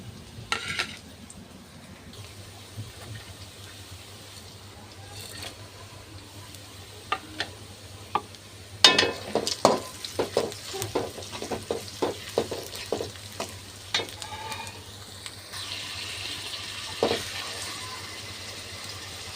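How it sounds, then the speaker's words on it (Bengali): Whole black pepper, cloves, cinnamon and cardamom hitting hot oil, a quiet steady hiss that bursts into a run of close, crackling pops and spits, then settles back toward a softer sizzle. "একটু গোলমরিচ কয়েকটা আর এই যে লবঙ্গ এগুলো এখন তেলের ভিতরে দিয়ে দেবো"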